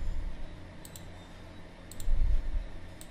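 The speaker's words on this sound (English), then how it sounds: "So just double up click it to extract the zip file." Two quick pairs of sharp computer mouse clicks, double-clicks opening a zip file on a Windows PC, crisp and close against a low background hum.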